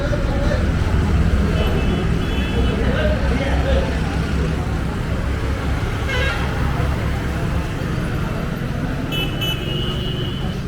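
Steady traffic noise from a busy main road beside a railway station in Jagdalpur, a continuous broadband roar of passing vehicles with a brief horn toot near the end, loud and close throughout.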